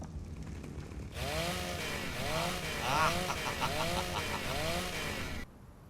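A chainsaw revs in the video game ARK Survival Evolved: a loud, buzzing motor that starts abruptly, rises and falls in repeated whining surges for several seconds, then cuts off, with no talking.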